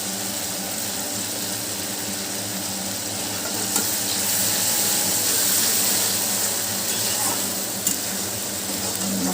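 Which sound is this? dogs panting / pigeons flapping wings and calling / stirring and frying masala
stirring and frying masala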